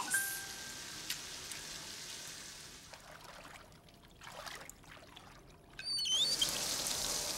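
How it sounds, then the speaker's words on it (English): Bathtub water draining in a cartoon, a faint trickle that grows into louder gurgling and pouring toward the end, with some chirping bird-like sounds in the background. "While Julie was draining the bathtub, Caillou was planning a surprise for her."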